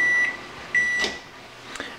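A microwave oven finishing its heating run, with sharp repeated electronic beeps, a door-latch clunk and a couple of close clicks in a quiet kitchen.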